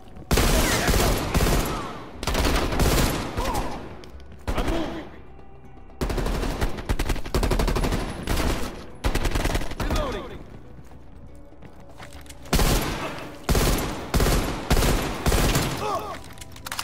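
Rapid gunfire in Call of Duty Black Ops Cold War: dense bursts of automatic and hip-fired shots, loud and close, arriving in clusters with brief pauses, with voices talking now and then underneath.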